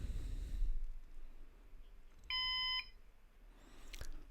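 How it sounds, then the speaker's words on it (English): A single short electronic beep from a Synology DS918+ NAS at startup, clean and steady, sounds once against a quiet background hum. "The blinking blue LED stopped, we heard the beep sound"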